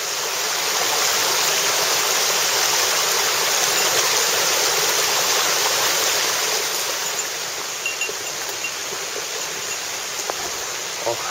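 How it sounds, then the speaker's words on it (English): Water bubbling and pouring steadily out of a small stone cistern on all sides along a forest trail, a loud continuous rushing wash that eases slightly toward the end. "I've come up to a little bubbling cistern with water coming out on all sides."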